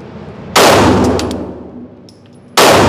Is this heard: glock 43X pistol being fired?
yes